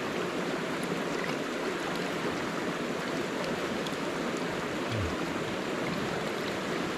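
River full of crayfish flowing steadily, a dense, even rush of water from start to finish with no voices.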